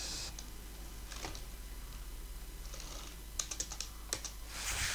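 Keys clatter softly on a computer keyboard with a few scattered taps, then a quick cluster of keystrokes like a shortcut being pressed, faint over a low room hum.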